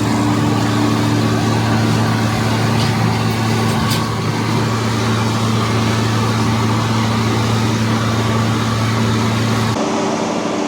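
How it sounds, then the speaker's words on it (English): A farm tractor's PTO drives a big hydraulic pump in a loud, steady mechanical drone with a strong low hum and broad whine, running continuously up close with no talk and a slight change in tone near the end. "we have this big old hydraulic pump over here that the PTO on the tractor is running"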